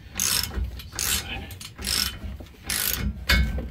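A ratchet cranks the torsion bar key during a Chevrolet Silverado leveling kit install, with repeated strained clicking strokes roughly every half second and nearby metallic scraping.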